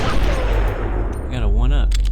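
Rapid gunfire bursts from the GameCube stealth game Metal Gear Solid: The Twin Snakes, dense and loud throughout, with a voice talking over the shots.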